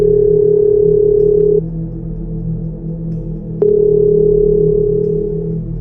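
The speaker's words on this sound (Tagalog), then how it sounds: "Tunog yun ng lumang telepono." An old telephone rings in two long steady tones separated by a pause, loud and close, with a low hum underneath.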